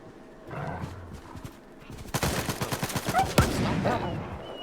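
Bursts of automatic gunfire in a firefight in S.T.A.L.K.E.R. 2. Fire starts partway in, then fast repeated shots with one sharp crack near the end, with faint background noise and no clear speech.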